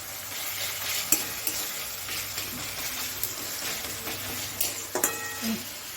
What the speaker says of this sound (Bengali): এবারে এর মধ্যে আমি টমেটো কুচি দিয়ে দেবো, দুটো বড় বড় টমেটো।